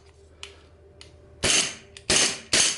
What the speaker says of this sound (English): lots of heavy blowback action, full slide movement, right?